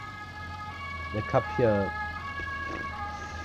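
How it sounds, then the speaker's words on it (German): An ambulance siren from a nearby clinic sounds outside, a steady wailing tone under someone speaking German over video game sounds. "Oh, Krankenwagen."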